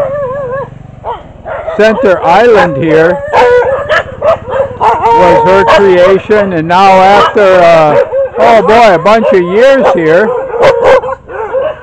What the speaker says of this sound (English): you can hear all the dogs barking